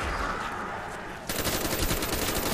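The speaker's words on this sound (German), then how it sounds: "Überall sehe ich Schüsse." Dense, continuous bursts of rapid gunfire fill the clip, getting louder and harsher halfway through, like automatic weapons firing nonstop in Call of Duty: Black Ops on the Kino der Toten zombies map.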